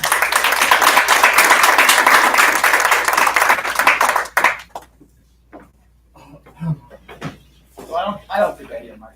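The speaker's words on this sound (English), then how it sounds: "please, I will ask for applause for Senator Chris Brooks" An audience at a renewable energy event applauds a senator for about four seconds, a full, busy burst of clapping that cuts off abruptly, followed by scattered talk and shuffling.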